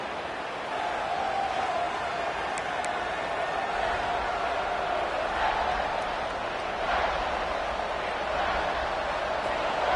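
Steady stadium crowd roar in the College Football 26 video game during a Tennessee versus Ole Miss red zone defensive stand, a dense continuous murmur that swells slightly over time.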